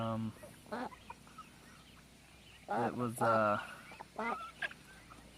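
Rhode Island Red chickens give a few short clucking calls in bursts near the mic, with a brief voice speaking over them.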